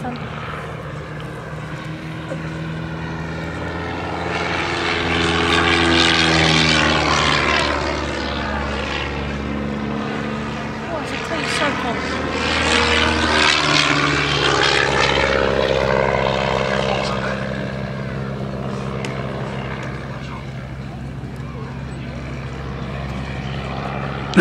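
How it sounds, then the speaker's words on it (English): A propeller-driven light aircraft flies gentle aerobatics at an airshow at East Fortune. Its steady engine drone swells and fades twice as it passes, with a droning pitch that shifts through the manoeuvres, continuous and fairly loud throughout. "Now this is aerobatics at its most gentle really."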